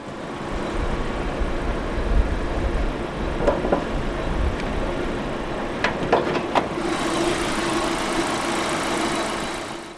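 A 2014 Proton Saga FLX 1.3 with a naturally aspirated, 16-valve DOHC inline-4 petrol engine idles with a steady, loud, close mechanical hum, broken by a few faint ticks and clicks.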